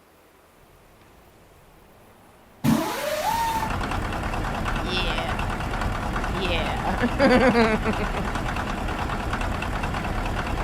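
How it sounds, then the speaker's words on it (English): A truck engine in American Truck Simulator cranks and catches after a quiet stretch, then settles into a steady, loud diesel idle with a knocking texture, while someone talks briefly over it. "I love the startup sound of this truck."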